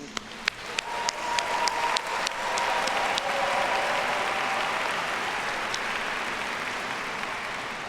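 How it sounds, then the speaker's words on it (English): Applause for graduates at a Duke Executive MBA and MSQM graduation ceremony starts with a few sharp individual claps, then swells into a broad, sustained round from a large audience that holds steady to the end. "First of many rounds of applause this morning for our graduates"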